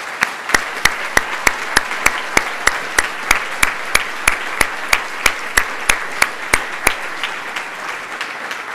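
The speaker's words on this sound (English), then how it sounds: "you deserve a great round of applause this morning for your accomplishments" Audience applause for award nominees standing at a healthcare awards morning ceremony: a steady run of loud, evenly spaced claps for about seven seconds, then fading into quiet room tone.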